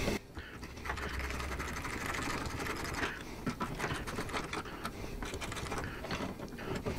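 Bracket bolts on an Advanblack adjustable rider backrest being tightened with a 10 millimeter ratchet, a close, continuous rapid clicking that runs for several seconds with brief pauses.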